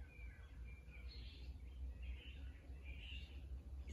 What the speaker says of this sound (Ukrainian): то трохи співу пташок. Ранішнього.